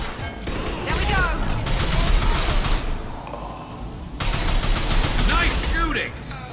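Sustained gunfire rattles through a firefight in the video game Mass Effect 2. Dense bursts carry on for several seconds, ease off briefly, then return loud and close, with voices calling out over the shooting.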